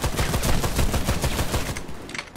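Sustained automatic fire from an HCAR rifle in the Warface shooter, a dense rapid string of loud close shots that runs for about two seconds, then breaks off into a short gap followed by a few trailing bursts.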